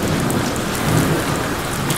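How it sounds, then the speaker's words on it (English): Heavy rain pours in the Deadpool video game, a loud, dense, continuous wash of drops hitting surfaces, steady throughout with no speech over it. "Especially when it's raining."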